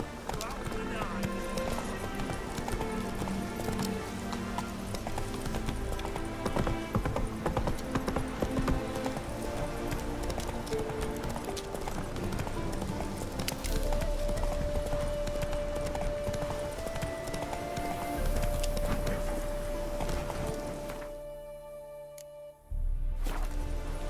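Geralt's horse Roach galloping in The Witcher 3, rhythmic hoofbeats drumming steadily under game music and a voice, then cutting off briefly near the end.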